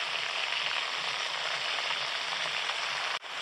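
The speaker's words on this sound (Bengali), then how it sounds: "মশলা দিয়ে 2 মিনিট কষে নিয়েছি" A ground spice paste of turmeric, salt, ginger, mustard and green chili fries in a pan, giving a steady crackling sizzle throughout, with a brief dip near the end.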